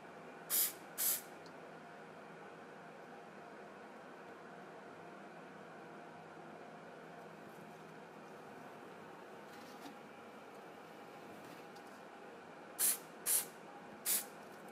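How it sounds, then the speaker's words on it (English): Anti-reflection spray hisses onto a bottle being set up for a photograph: two short bursts at the start, then near-silence, then three more quick sprays near the end, close and crisp. "So anti-reflex spray goes only on the front side, maybe not even here, maybe just lower."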